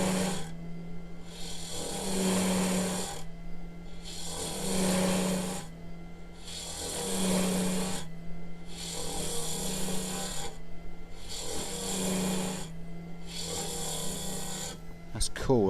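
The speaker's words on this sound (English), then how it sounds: "Because it's quite a long blank, we are going to get some vibration from it." Long wood blank spinning on a lathe, giving a steady low hum with a rhythmic rasping pulse repeating roughly every two and a half seconds, fairly loud and continuous with no talk.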